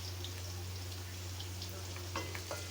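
Onions frying in a pan over a high flame give off a steady, close sizzle with small pops and crackles. A low mains-like hum runs underneath, and no voices are heard.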